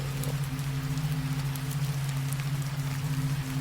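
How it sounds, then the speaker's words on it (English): Rain drums steadily on a surface in a dense, even patter with a low continuous hum underneath, no voices. "Windows misting, rain drumming."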